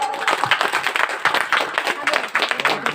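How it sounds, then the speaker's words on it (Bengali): An audience claps loudly and steadily in dense bursts after a jatra folk theatre performance, with voices mixed in throughout. "জোরে হাততালি একবার সবাই"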